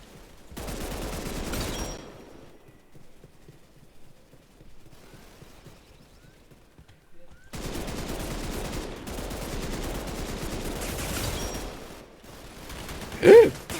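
Rapid bursts of video game gunfire in a shooter with odd weapons, loud dense volleys around two seconds then a quiet gap, followed by a longer sustained stretch of automatic fire ending with a sharp single crack.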